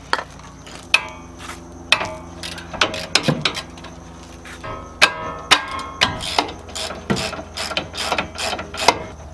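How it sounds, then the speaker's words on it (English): A bicycle brake caliper is unbolted during a dual-caliper swap, with a series of sharp ratcheting clicks and metallic taps from a hand tool arriving in irregular bursts, close and clear, with no talking. "take the caliper off"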